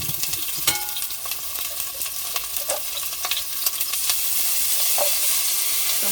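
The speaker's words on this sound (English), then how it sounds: "So I'm gonna start cooking my potato and chana now. I'm gonna add some onions again." Onions fry with potato and chana in a curry pot, giving a continuous close sizzle with occasional clinks of a stirring spoon, the hiss swelling slightly toward the end.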